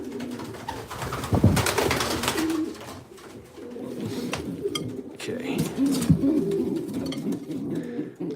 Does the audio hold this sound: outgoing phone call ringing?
no